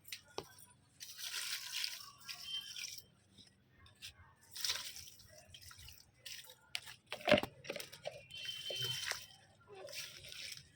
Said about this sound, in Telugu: ఈ వాటర్ని మనం డైరెక్ట్గా మొక్క యొక్క మట్టి భాగంలో మొక్క అంతా కూడా షవర్ ప్రాసెస్ టైప్ చేసేసుకోవచ్చు